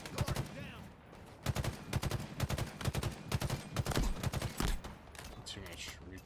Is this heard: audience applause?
no